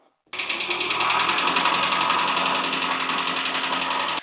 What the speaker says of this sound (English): So as you just heard, she got a case of the piston slap.